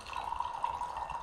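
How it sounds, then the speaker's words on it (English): Brewed tea being poured off the leaves at the Dartmoor Estate tea plantation: a faint, steady trickle of liquid, quiet and continuous for about a second. "you pour all the liquid off the leaf"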